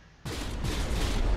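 In the From the Depths video game, the Funkrome warship fires high explosive shells, a sudden loud burst of booming cannon fire kicking in after brief quiet and rumbling on heavily.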